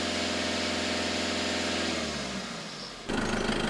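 A car engine runs steadily at idle with a constant low hum, then the tone shifts near the end as a louder, broader noise cuts in, likely while the coolant hose is pinched to purge an air bubble.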